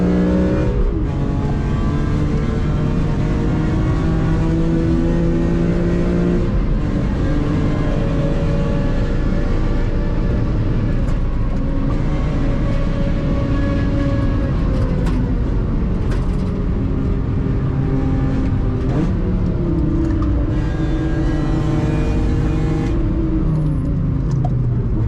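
BMW M3 CSL engine revving hard on the Nürburgring, heard loud and close from inside the car, the pitch climbing and dropping through the gears and staying steady for the whole stretch.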